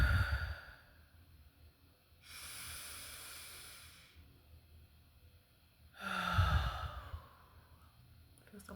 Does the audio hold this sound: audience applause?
no